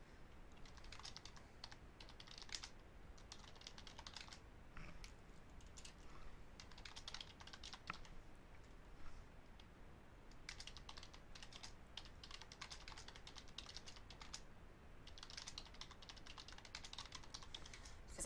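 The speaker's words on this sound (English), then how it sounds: "typing is distracting, so it's hard for me to type and talk at the same time" Steady typing on a computer keyboard, continuous quick keystrokes at a low level with no voices.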